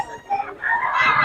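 Hen clucking amid a busy poultry market, a short burst of clucks close by over crowd noise and chatter.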